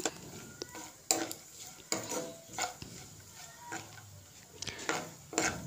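Chopped cashews, pistachios and almonds being dry-roasted in a pan, with scattered scraping and clinking stir strokes at irregular intervals over a faint background hiss, close and fairly quiet.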